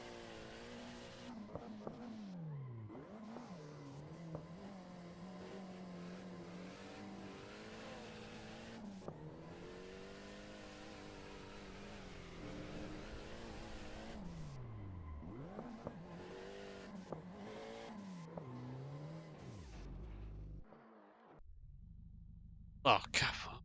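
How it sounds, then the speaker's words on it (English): Racing-game Mitsubishi Evo engine revving hard through repeated rises and drops while drifting, with tire squeal, steady and loud throughout and cutting off near the end. "I feel like I've heard this sound before on an Evo."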